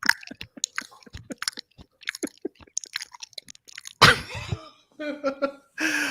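Gum chewing on a livestream gives soft, irregular wet smacks up close, followed by a few louder coughing or laughing bursts.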